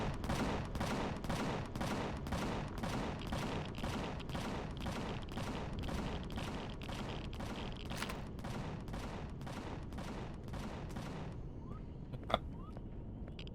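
Rapid rhythmic automatic gunfire in the video game Empyrion Galactic Survival, about a dozen evenly spaced shots running continuously before stopping, followed by a faint lone sharp crack near the end.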